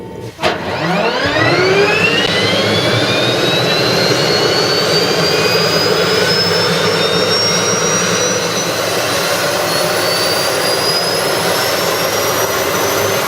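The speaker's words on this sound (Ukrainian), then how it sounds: "Якщо ви не зрозуміли, зараз машина заведена" An M1150 armored engineering vehicle's 1500-horsepower gas-turbine engine runs at a steady, loud roar with a rising turbine-like whine, starting up and then holding constant throughout.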